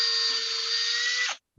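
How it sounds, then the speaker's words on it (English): An electric drill fitted with a rod coupler at a woodturners' meeting whines steadily at high pitch for over a second, then spins down and stops, loud and close with no talk. "So I've got my drill, so I can run up and down in here in my drill."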